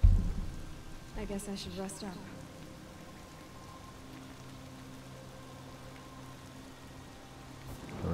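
Rain pours in the Horizon Zero Dawn video game with a low thunder rumble at the start and a few sharper sounds early on. Someone speaks briefly over the continuous downpour.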